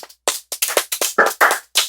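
Roughly ten sharp, separate hand claps ring out close and loud from a small studio audience welcoming a guest, spaced unevenly with brief silences between them.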